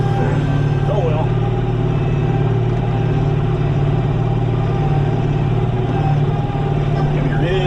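A tractor drives along with its grapple attachment raised high, its engine giving a steady, close, loud mid-pitched drone that holds without a break.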